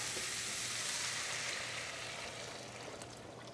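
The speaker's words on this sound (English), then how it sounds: "I'm going to pour in the chicken broth." Chicken broth poured into a hot soup pot with a loud continuous sizzle that slowly eases, close and without talking.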